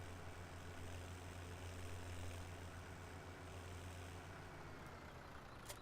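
Tractor engine idling in Farming Simulator 17, heard as a steady low droning rumble with an even mechanical hum, continuous and unchanging throughout.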